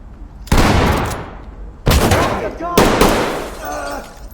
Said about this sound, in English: Use the shotgun on the door,